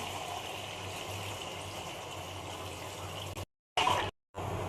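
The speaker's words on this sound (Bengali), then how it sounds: "জলটা গরম হয়ে গেছে, এবার চিকেনে ঢেলে দিলাম।" Hot water is poured onto chicken in a steady, close gushing stream that runs evenly, then breaks off twice near the end.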